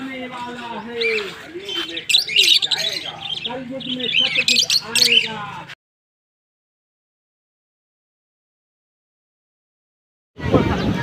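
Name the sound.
parrots squawking and chirping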